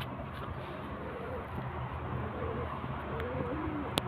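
Pink-banded pigeons coo softly in the background against a steady low hum, with faint voices and a sharp click near the end.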